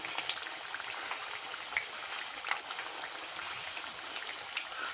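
Chili bajji frying in hot oil, a dense, steady bubbling sizzle with scattered small pops as the fritters are stirred and flipped, with no one talking.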